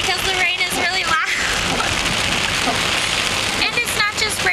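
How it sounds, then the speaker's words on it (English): Heavy pouring rain in a storm makes a loud, continuous roar close by, with a person talking loudly over the downpour throughout. "I have to talk really loud because the rain is really loud."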